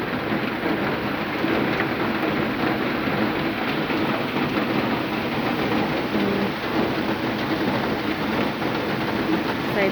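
Heavy rain pours steadily in Pune, India, in a dense, constant hiss and patter, loud and close, with no voices.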